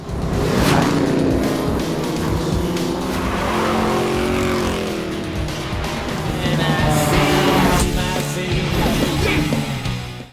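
Cars race in a film scene, including a Chrysler LeBaron convertible, with loud revving engines, screeching tyre squeals and cars roaring past at close range, continuing steadily for about ten seconds.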